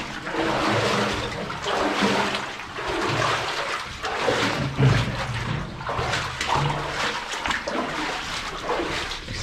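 Water splashing and trickling through a flooded passage of an abandoned mine below a mountain in Scotland, a steady broadband wash that stays fairly loud and close throughout with occasional sloshing surges.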